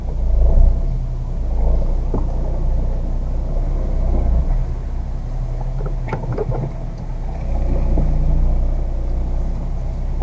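A car creeps slowly forward to park, its engine a low, steady rumble with small surges, heard from inside the vehicle near a river with waterfalls.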